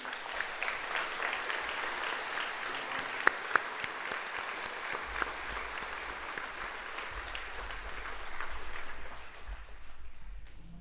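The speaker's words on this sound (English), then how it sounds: "How about another round of applause for all our inductees?" A banquet-hall crowd at the 2025 Glengarry sports Hall of Fame induction dinner gives the inductees a long, steady round of applause that swells slightly near the end before thinning out.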